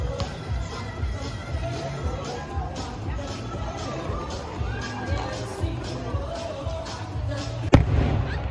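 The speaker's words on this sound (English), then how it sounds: "Dollywood is doing fireworks at the end of the night" Fireworks go off at the end of the night at Dollywood during its Smoky Mountain Christmas event, heard from the parking lot as soft distant thumps over a low crowd murmur, with one sharper bang near the end.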